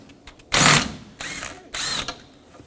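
A hand ratchet turns a 7mm bolt on the active grill shutter of a 2018-2024 Chevrolet Equinox 1.5L, giving three close bursts of rapid clicking separated by short pauses.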